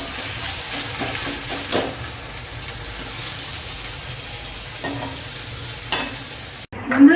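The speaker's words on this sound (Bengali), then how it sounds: "এদিকে পেঁয়াজটা ভাজা হতে থাক" Onion fries in oil for aloo paratha, a continuous close sizzle with occasional stirring scrapes and a brief clatter at the end.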